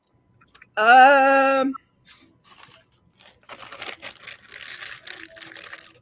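Someone crunches tortilla chips close to the microphone in a string of crisp bursts, after a short vocal murmur.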